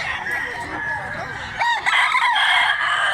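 A big black leg rooster crows loudly and close by, a single full cock-a-doodle-doo in the second half, with clucking and faint voices beforehand.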